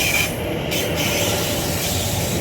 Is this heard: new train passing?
yes